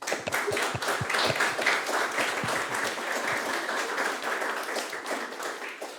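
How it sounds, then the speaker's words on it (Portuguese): A seated audience at an event celebrating the composer Almeida Prado's 80th birthday gives a warm round of applause in a concert hall. Dense, even clapping carries on steadily from start to finish, slightly distant. "Ao nosso produtor de gravação, Francisco Carlos Coelho, uma salva de palmas."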